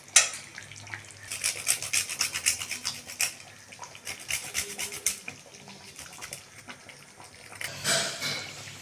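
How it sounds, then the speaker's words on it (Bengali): Whole nutmeg grated for a dum malai chicken, giving a rapid run of dry rasping strokes close by, loud in uneven bursts with short pauses and a final flurry near the end. "এরপর দেখুন দিয়ে দেবো জায়ফলগুলো একটু গ্রেট করে"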